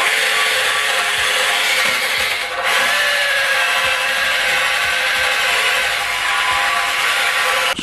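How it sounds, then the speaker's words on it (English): A drill spins a wire brush against rusty metal on a Ford Mondeo ST, a steady harsh whirring grind with a brief dip partway through. "I've got my drill with the wire attachment."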